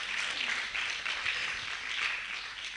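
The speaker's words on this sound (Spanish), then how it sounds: "Denle un fuerte aplauso al Señor" Church congregation applauding during a Spanish-language service, steady dense clapping that runs through the whole short stretch with no voices over it.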